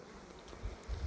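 Honeybees buzz around a hive in a brief, soft, steady hum with a low rumble, no talk.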